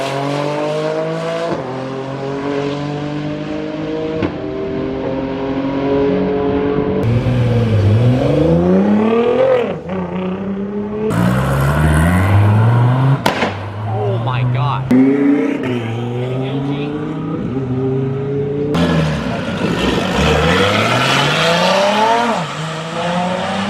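Race cars accelerate hard during roll racing qualifying at a drag event, engines rising through repeated gear-change sweeps as they pass close by one after another, loud throughout. A voice talks over the noise.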